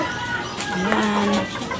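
Backyard chickens kept in a small coop cluck and murmur close by in a short burst, with soft rustling and a bit of ambient noise around them.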